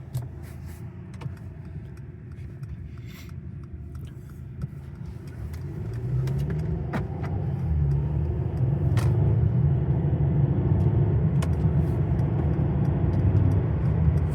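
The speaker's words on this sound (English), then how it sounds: "now let's go on that test drive" A car driving on a test drive: steady low road and engine rumble that grows louder about midway as it picks up speed, with a few faint clicks above and no talking.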